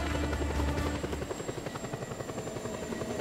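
A helicopter in the video game Just Cause 2 drones steadily with a loud, throbbing rotor chop that quickens into dense rhythmic beats, with no talk over it.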